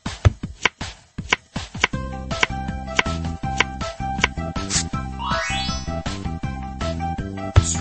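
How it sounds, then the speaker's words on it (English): Vegetables are chopped in a Team Umizoomi video game, with quick rhythmic cutting clicks and swishes over a bright, tinkly game melody. "Swipe your finger across the screen to help Bot cut the vegetables."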